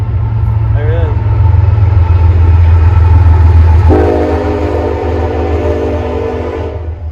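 Train rumbling past close by with a deep continuous roar, its horn blowing loudly in a sustained blast partway through while the rail noise carries on underneath.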